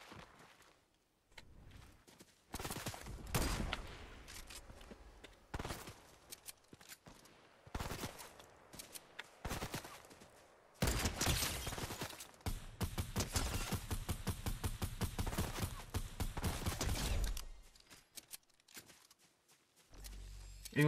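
Bursts of rapid gunfire and volleys of shots in Fortnite, loud and near, separated by brief pauses, with a long sustained automatic stretch toward the end.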